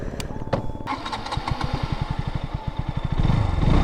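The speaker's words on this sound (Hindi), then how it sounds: "और थर्ड बात कर लेते हैं इसके एग्जॉस्ट नोट की।" A KTM RC 125 motorcycle engine cranks and fires, settling into a rapid, even putter of the single-cylinder exhaust up close, then swelling louder as it revs near the end.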